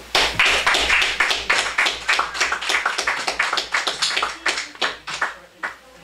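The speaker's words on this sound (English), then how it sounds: "Applause is good." Audience applause following a poetry reading: a dense burst of many hands clapping close and loud, thinning into scattered individual claps as it fades over several seconds.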